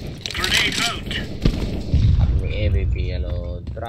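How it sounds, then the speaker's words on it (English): A grenade goes off in Counter-Strike: Global Offensive: a sharp crack midway followed by a heavy, rumbling boom amid other game noise, with voices talking over it. "Grenade out!"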